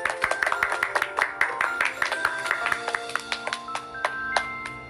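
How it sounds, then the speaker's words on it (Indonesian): Hands clap in a quick, rhythmic run of sharp claps layered over light background music, fairly faint overall and lasting several seconds, with no speech. "Tepuk tangan yuk."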